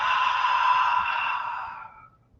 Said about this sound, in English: And now open the mouth, and with the word saying ah,